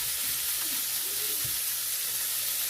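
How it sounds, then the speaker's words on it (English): Chunks of ribeye steak sizzle in a hot pan with a soft, steady hiss and a few faint low knocks, quiet and close. "So the pan is good and hot, and so I'm going to add the steak to it."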